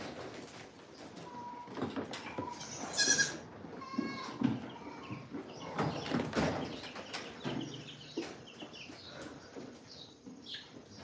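Goats in a farm pen bleat insistently, several overlapping calls near and far, mixed with clattering, rustling and creaking gate or door noises throughout.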